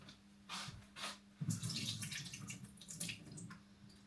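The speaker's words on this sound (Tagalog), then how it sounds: "Tapon ko muna yung tubig." Water is poured and splashes out of a tofu container into a kitchen sink in a few short gushes, quiet and close.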